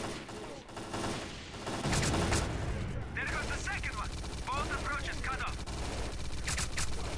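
Bursts of bullet gunfire in the video game S.T.A.L.K.E.R.: Clear Sky, rapid automatic shots and cracks layered over a dense, loud game soundscape with explosive rumble.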